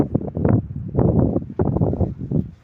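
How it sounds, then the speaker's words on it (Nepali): Gusty night wind in Kathmandu before a storm roars against the microphone in strong, uneven bursts, loud and close, with short lulls between gusts. "पुरा हावा चल्दै यस्तरी बिजुली चम्किँदै गरिरहेछ यहाँ अहिले"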